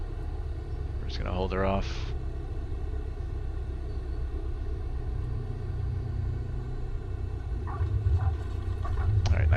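A Cessna 172S engine drones at idle power in Flight Simulator 2020, a steady low rumble with faint tonal hum that swells slightly toward the end, while a pilot speaks briefly over it.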